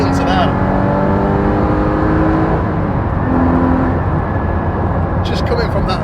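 A Porsche GT4's 3.8-litre naturally aspirated engine drones loudly and steadily under way, its pitch shifting through the revs as the car drives, with someone talking over the engine noise.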